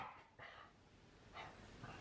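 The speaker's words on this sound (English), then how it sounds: "I've got a very naughty little dog." A small dog barks faintly in the background, a few distant yaps spaced apart over a quiet indoor room.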